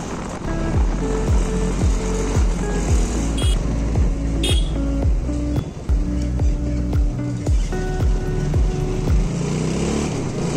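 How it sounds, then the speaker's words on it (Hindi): A motorcycle engine drones loudly and close while riding, with a steady rhythmic pulsing throughout and no speech. "मेरा बाइक का साउंड इतना ज़्यादा है कि मेरे से ज़्यादा मेरे बाइक का साउंड आ रहा होगा आप सबको"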